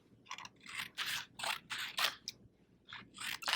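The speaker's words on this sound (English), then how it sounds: "Using the scissors, cut your litmus paper into 3 to 5 strips." Scissors snipping litmus paper into strips: a quick run of crisp, papery cuts, about eight close, distinct snips in an uneven rhythm, with no voice.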